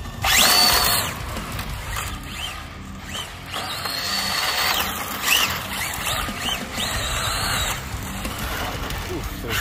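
An Arrma Infraction RC car on its stock motor speeds past with a high electric whine that rises and falls as it passes close by and moves away. A voice can be heard in the background.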